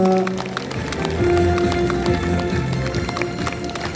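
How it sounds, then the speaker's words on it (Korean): Applause for an award winner at a Korean native orchid exhibition ceremony, a loud, dense patter of many hands clapping that holds steady throughout, with background tones underneath. "명예의 대상을 받으신 김근태님께 다시 한번 큰 박수 부탁드립니다."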